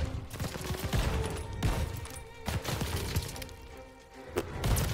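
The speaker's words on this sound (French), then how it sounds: "Ça me tire dessus, je sais même pas d'où." Gunfire and explosive thumps rattle through a Call of Duty: Vanguard battle, with bursts of shots and heavy impacts crowding together in a loud, dense fusillade.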